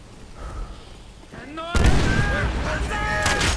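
A loud explosion in the World War II shooter Call of Duty: World at War bursts in suddenly and rolls on as a dense, roaring rumble with crackling debris over fainter game sounds.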